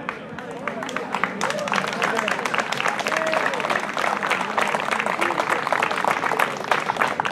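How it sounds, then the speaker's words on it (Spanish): Dense, steady crowd applause at a horse-riding festival in Flores, with many hands clapping close and loud for several seconds over murmuring voices. "Bien, fuerte el aplauso."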